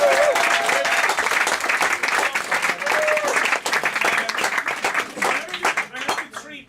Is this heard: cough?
no